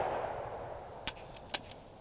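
A Ruger SP101 3-inch Wiley Clapp Edition, a small-frame magnum revolver, fires two sharp, fairly quiet shots about half a second apart, each with a short ringing tail, against a faint background and no talking.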